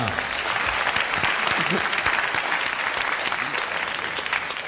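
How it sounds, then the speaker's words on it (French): Sustained applause from a TV studio audience, steady and full for several seconds with a few voices mixed into the clapping. "Alors je vous demande pas la première d'applaudir Monsieur Hogg de Pont-à-Marc"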